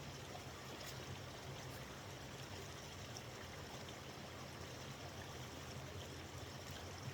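A forest stream flows steadily and close by, a continuous broadband rush and trickle of water with no pauses and no voices over it.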